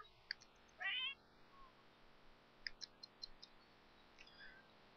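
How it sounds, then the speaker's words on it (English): A cat in The Sims 3 plays with a toy and gives a short, faint meow alongside a few quiet high chirps and clicks against a near-silent background. "Cat's just playing with the toy."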